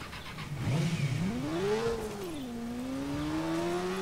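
A motorbike engine in a video game revs up and holds a rising, steady whine over about four seconds, close and fairly loud with no speech over it.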